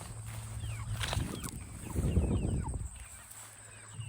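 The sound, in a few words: broiler chickens clucking on a farm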